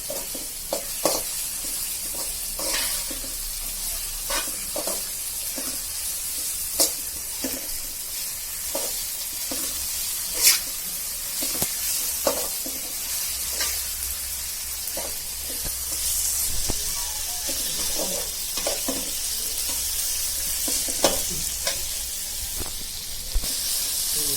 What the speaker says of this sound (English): I will let this fry also for a little while till the raw smell goes away.